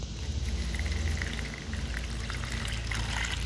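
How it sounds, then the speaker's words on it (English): Drinking water poured into a small container for a fishing bait trick, a steady close splashing trickle lasting several seconds with no talk over it. "I guess I'll pour my drinking water in there."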